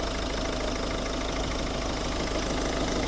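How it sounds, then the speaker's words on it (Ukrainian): Volvo V50 1.6 HDi diesel from 2009 idling, a steady, even engine drone that runs unbroken and fairly close throughout, with no voices over it. "Робота двигуна."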